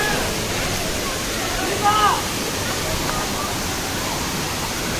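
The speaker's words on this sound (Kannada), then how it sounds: "ನೋಡಿ, ಇದೇ ಎರ್ಮಾಯಿ ವಾಟರ್ ಫಾಲ್ಸ್." The Ermayi multi-layered waterfall near Ujire, Belthangady roars as a steady broadband rush of falling water, loud and continuous, with a brief faint chirp mid-way.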